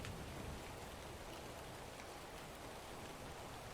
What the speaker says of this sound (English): we're just gonna be listening to rain and thunder